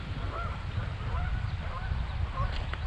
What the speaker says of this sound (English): The geese are upset, as always.